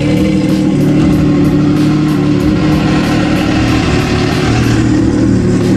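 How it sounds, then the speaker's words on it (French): A Yamaha WaveRunner jet ski engine running steadily while its turbine, exhaust and cooling system are flushed with fresh water, a loud, close, continuous mechanical drone with a slight rhythmic pulse. "là on est en train de rincer tout le système, la turbine, le système d'échappement et vraiment le moteur en lui-même"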